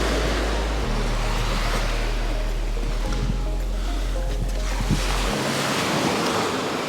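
Sea surf rolls and washes onto a shore in cold winter weather, a steady loud roar of water with heavy wind buffeting the microphone throughout.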